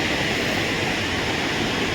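Steady, loud rushing of the Pindar river flowing over big boulders at Narayan Bagar in Chamoli, Uttarakhand, a dense unbroken roar filling the whole stretch.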